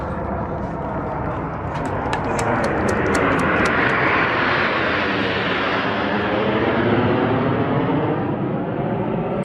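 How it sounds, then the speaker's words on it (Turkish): Turkish Stars aerobatic jets flying a salute over İskenderun Bay toward the Amanos Mountains, a loud sustained jet roar that builds and sweeps past, with a brief sequence of sharp pulses early on. "Türk Yıldızları'nın İskenderun Körfezi üzerinde başlayıp Amanos Dağları'na doğru tırmandıkları selamlama uçuşu ilgiyle izlendi."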